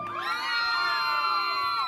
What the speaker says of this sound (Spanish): Un aplauso para la pareja número 1.